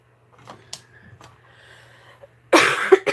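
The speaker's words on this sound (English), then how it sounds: "excuse me for the coughing and such" A brief burst of harsh coughing comes at the end, loud and close, after a few seconds of quiet with faint rustling and small clicks.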